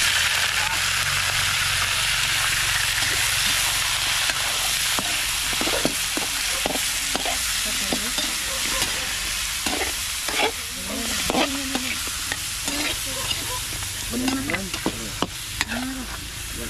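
Garlic and onion sauté in a pan as a constant loud sizzle, with stirring scrapes growing busier in the second half and faint voices briefly underneath.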